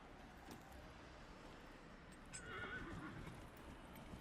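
Horse in the video game Dragon Age Inquisition gives a whinnying neigh alongside clip-clopping hooves, all fairly quiet against a low ambient game background with no speech.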